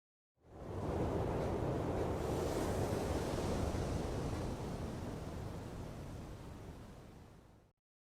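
Ocean waves washing around an oil platform map in the video game Socom: a steady, broad roar of surf and wind that swells in, holds for several seconds, then fades and cuts off.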